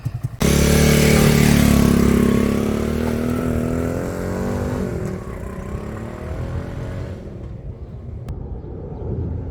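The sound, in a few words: cheap online-ordered motorcycle being ridden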